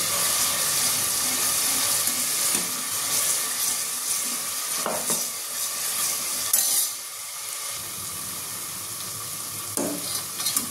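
Chicken curry with onion paste, ginger-garlic paste and tomato paste sizzles in a pan, a steady close frying hiss with scraping stirs and a few soft clinks throughout.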